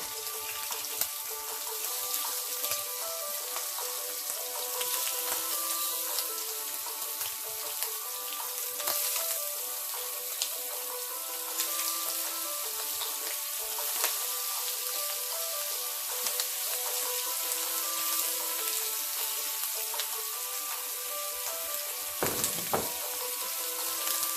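Shrimp cooking in a ripping hot pan, giving a steady, bright sizzle and crackle that runs unbroken throughout, close and moderately loud, with no voices.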